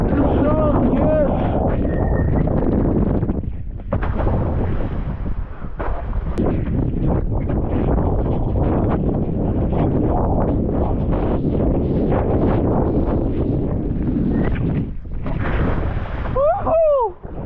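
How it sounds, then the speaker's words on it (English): Strong, roaring wind buffets the microphone throughout while wingfoiling in a snowstorm on open water, loud and continuous, with gusts and brief shouts over it. "It was so windy."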